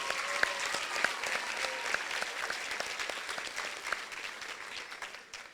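A crowd claps at a Miller Middle School eighth-grade moving-up ceremony, with full, continuous applause that stays even and fairly loud before easing slightly at the end.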